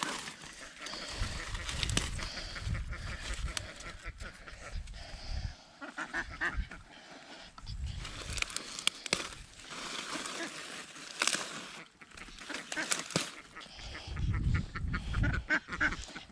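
Ducks quack and honk in a rough, irregular chorus nearby as they are fed scraps of chard stalks, with brief louder bursts and some faint voice mixed in.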